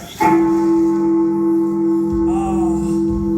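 A single deep bell strikes once near the start of a live stage show, its steady tone ringing on and sustaining through the rest, with a faint low rumble and a slight shift in the ringing toward the end.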